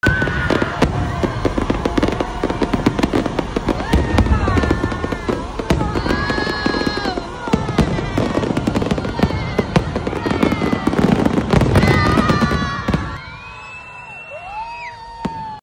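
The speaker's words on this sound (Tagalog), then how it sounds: "Nung tapos na nga pala ay hindi mawawala ang fireworks." Fireworks burst over Enchanted Kingdom's 30th anniversary celebration after a concert: a dense, continuous barrage of loud bangs, crackles and whistling rockets with crowd noise underneath, thinning to a few final whistles near the end.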